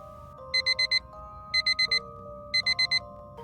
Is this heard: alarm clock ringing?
yes